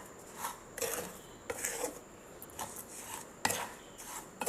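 A spoon stirs powdered sugar into a semolina and coconut laddu mixture in a pan, giving soft rhythmic rasping scrapes in several strokes, close and fairly quiet.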